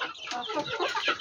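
Hill chickens cluck busily at close range while being fed a fermented maize feed, with overlapping soft clucks and chatter running throughout the short stretch.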